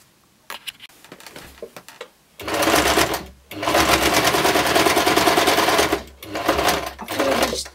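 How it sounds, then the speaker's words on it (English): A sewing machine stitches a vertical seam on a pleated skirt, running in several loud rapid bursts with brief pauses between, close and alone. "Close it here, pin it here and sew it vertically this way."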